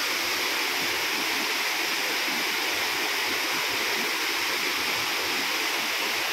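Tinandayagan Falls in Libmanan, Camarines Sur, pours in a steady, dense roar of falling water heard up close, a constant broadband rush without breaks or voices.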